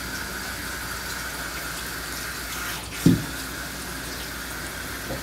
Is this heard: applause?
no